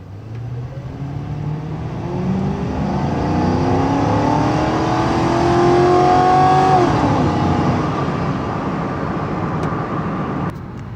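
A Ford Crown Victoria V8 revs hard and steadily climbs in pitch, a loud, close engine note that swells to a peak and then eases off, with no voices over it.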